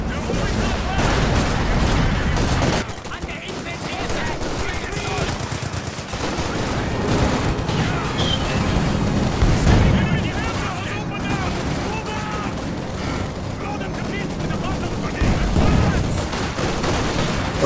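Grenade blasts and heavy gunfire from a war video game roar close and loud, with dense bursts of automatic fire and booming explosions running throughout.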